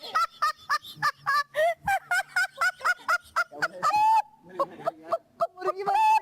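Someone imitates a chicken in a rapid string of clucks and squawks, loud and close, rising into a drawn-out cackle near the end.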